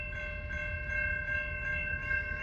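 A train passes a railroad crossing where signal lights are flashing, giving a steady loud rumble with a sustained high tonal ring above it and no talking.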